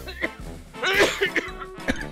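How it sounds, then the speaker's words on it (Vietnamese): A person coughs several times, harsh throaty bursts spaced unevenly at close range, with some vocal sounds mixed in, in an indoor TV drama scene. "em thấy sếp ho quá"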